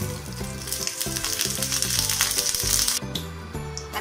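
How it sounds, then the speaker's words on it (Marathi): Oil sizzling on a heated griddle (tava) while besan batter is spread for a Nasik-style patodi dish, a steady close crackling hiss with no talking. "तवा गरम करून आता आपण तेल टाकून"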